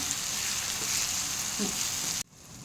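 Curry leaves sautéing in oil in a pan for a tamarind gravy give a steady, close sizzle and crackle, which cuts off abruptly near the end leaving a quieter hiss.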